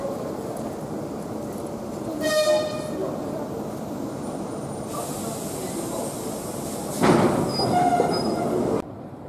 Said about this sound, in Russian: Ждем поезд.